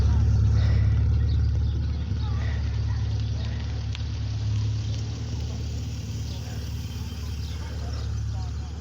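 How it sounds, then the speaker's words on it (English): An MGB Roadster rolling past at a classic car meet at the Dovecote Inn, Laxton, its engine a loud, steady low rumble that slowly eases off as it moves by. "MGB Roadster."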